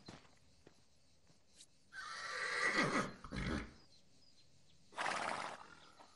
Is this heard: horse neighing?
yes